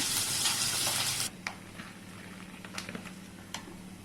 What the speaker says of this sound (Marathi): कांदा थोडासा गुलाबीसर होऊ द्यायचा जास्त लाल होऊ द्यायचा नाही तेवढाच खोलतून घेऊया